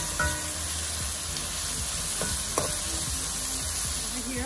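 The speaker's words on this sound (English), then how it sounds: "I'm gonna add 4 cloves of garlic and 1 small onion. I'm gonna let this saute for like 4 minutes." Four cloves of garlic and a small onion sauté in a pan, giving a steady, close sizzle with light stirring clicks and scrapes throughout, and no talking.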